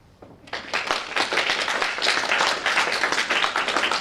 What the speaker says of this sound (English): can I get a round of applause for Becky from Brooks